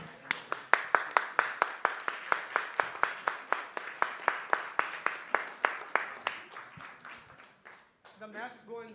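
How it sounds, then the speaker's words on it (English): An audience at a devotional talk breaks into sustained clapping, a dense run of sharp claps that thins out and fades near the end. "give a big round of applause to His Grace Yasoda Prabhu"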